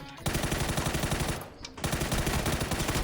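Rapid automatic gunfire in PUBG, loud sustained bursts that break off briefly before resuming in a steady rattling rhythm.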